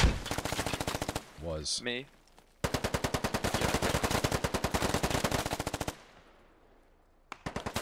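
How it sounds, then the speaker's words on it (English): Rapid automatic gunfire in the Squad military shooter, long dense bursts of loud sharp shots with brief pauses, plus a short voice and a fading tail before a final burst. "There's some kind of automatic weapon watching the entrance way."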